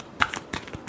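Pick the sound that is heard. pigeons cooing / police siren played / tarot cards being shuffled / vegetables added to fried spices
tarot cards being shuffled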